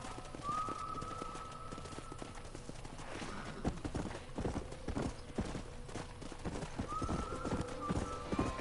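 Video game horse gallops with hooves clattering in a fast rhythm, with a horse's whinny and a faint whistle-like tone rising at the start and again near the end.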